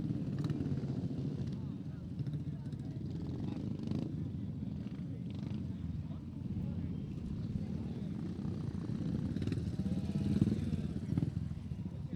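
350cc dirt track motorcycles race in a men's novice final, their engines a continuous loud drone that rises and falls slightly across the whole stretch, with an announcer talking over it.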